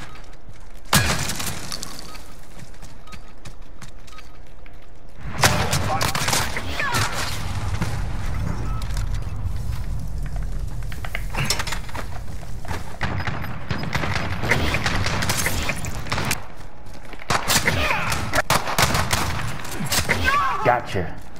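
Intense gunfire in a shoothouse firefight in a shooter game with an MP5 submachine gun, long bursts of rapid shots and clattering impacts, loud and close, with voices shouting over the shooting.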